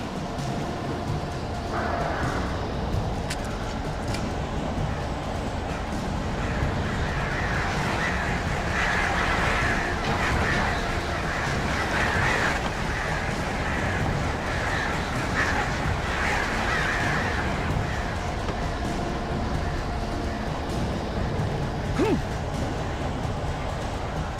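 Crows caw in Alan Wake Remastered, a scattered series of harsh calls over a constant dense game ambience that runs throughout.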